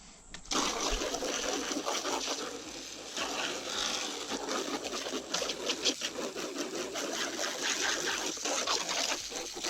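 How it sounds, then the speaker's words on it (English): Water from a hose sprays onto the plastic fender of a Raptor 350 quad, a steady broadband hiss and splatter that runs close and loud from start to finish with no talk. "and then I'm gonna hose it off."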